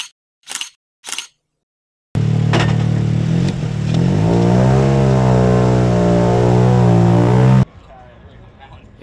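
Rally cars racing past at a Toyota Gazoo Racing rally event, a loud engine roar sweeping close by with rising and falling revs for several seconds, then cutting away, after two short sharp clicks.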